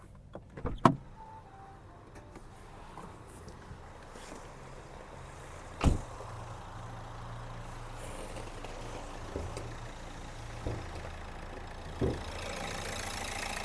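A Renault Megane's 1.5 dCi K9K diesel engine idles with a steady low drone, broken by a few sharp clicks and knocks, heard close and unaccompanied by speech.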